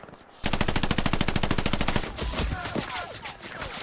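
Sustained machine gun fire in the World War II shooter Hell Let Loose, a loud rapid burst of evenly spaced shots for about a second and a half, then tapering into scattered distant gunfire and battlefield noise.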